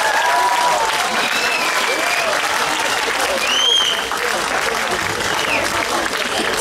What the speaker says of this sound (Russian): Давайте его проводим аплодисментами.